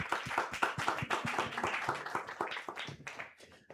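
A small group claps loosely and unevenly for themselves at a live-streamed business event; the hand claps are close and sharp, then thin out toward the end.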